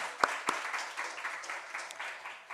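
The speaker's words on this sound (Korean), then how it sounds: "하나님께 영광의 박수 올려드리겠습니다." A congregation at a Friday church service claps in praise, with two sharp nearby claps first and then softer, scattered applause that fades out. The sound is fairly faint and carries room echo.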